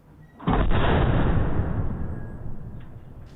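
A single loud artillery cannon blast booms out, then its heavy rumble rolls on and slowly fades over a few seconds.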